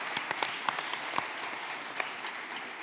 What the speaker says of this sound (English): Can we have a round of applause for the organizers?